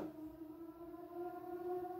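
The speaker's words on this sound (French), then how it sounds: "Excusez-moi si vous entendez une sirène dehors." A siren wails outside, a steady faint tone with a rising harmonic drifting in the background, sounding distant and muffled through walls, with no talk over it.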